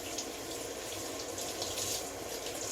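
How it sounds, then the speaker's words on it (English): Tap water runs over a mango seed being rinsed by hand in a kitchen sink, a steady soft splashing hiss, faint and continuous, with no talking. "Rinse it real good, get your fingernails in there and push all that organic material off of there"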